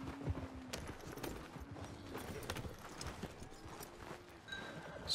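Horse hooves clop irregularly on a farm, close and moderately loud, with a faint whinny at the start amid low background rustling.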